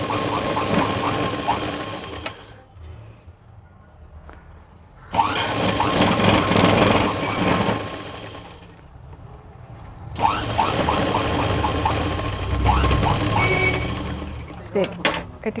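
An electric sewing machine stitches a small children's petticoat in bursts of steady whirring, running in three long spells separated by quieter pauses, close and fairly loud.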